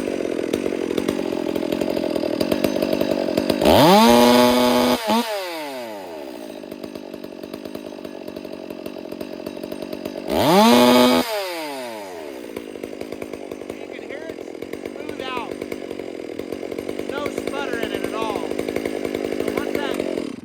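A chainsaw engine with a lean carburetor setting runs steadily at idle, with two brief revving bursts that rise and fall, and the running note wavers and sputters slightly, close and loud.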